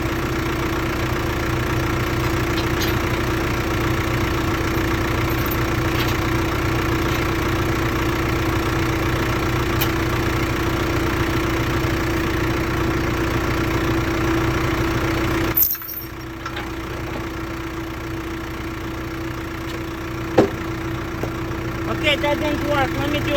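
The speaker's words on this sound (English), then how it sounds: "I'm gonna take this chain, hook it to the backhoe bucket and see if I can pull it off." A John Deere backhoe engine idles steadily and loudly nearby while a chain hooked to the bucket pulls at a tire. A brief sharp clank breaks in partway through, and the engine keeps running afterward.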